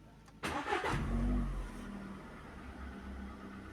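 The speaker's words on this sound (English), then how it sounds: "press the clutch, put the car in neutral, insert the key, and start the engine." A manual car's engine cranks and catches with a loud burst, briefly revs, then settles into a steady idle, heard alone with no talk.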